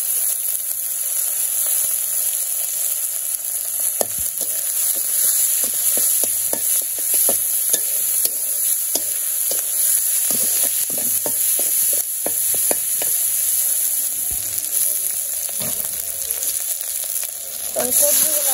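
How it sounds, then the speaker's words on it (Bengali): Garlic and green chillies fry for a Bengali chochchori in a pan, a loud, steady close sizzle with intermittent scraping stirs and clatters throughout, and no talking. "সাথে রসুন আছে, রসুন দিয়ে দিলাম। কাঁচামরিচ দিয়ে দিই। এখন রান্না করবো চচ্চড়ি।"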